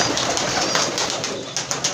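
Pigeons in a loft, one a female with a paralysis-like condition, coo continuously nearby in repeated soft throaty phrases, with no talking.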